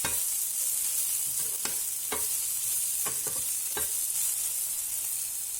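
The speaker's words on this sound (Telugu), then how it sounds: "క్యారెట్ అండ్ బీన్స్ ఆల్మోస్ట్ బాగా ఫ్రై అయిపోయాయి కదా" Carrots and beans sizzle steadily in a hot pan while a spoon stirs them, giving a constant frying hiss broken by several scraping clicks, close and alone without talk.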